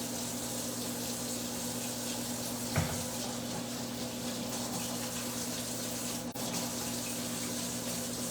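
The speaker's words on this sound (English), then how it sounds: "I'm gonna wash my hands" Steady rush of a kitchen tap running continuously as hands are washed beneath it, a broad even water hiss with a brief splash or clunk partway through.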